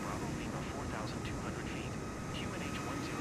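A bigger plane cruises at very high speed in Microsoft Flight Simulator 2024 on a Steam Deck, a steady, dense roar of engine and wind noise holding constant throughout, with a voice talking over it.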